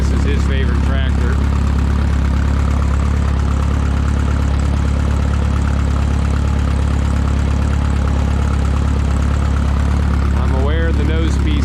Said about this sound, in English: So neighbor Carl is over there mowing.